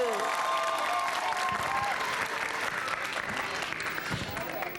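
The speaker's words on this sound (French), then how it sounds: "On applaudit." An audience in the stands at a Cameroonian television variety show applauds continuously, a dense crowd clapping with voices and cheering mixed in.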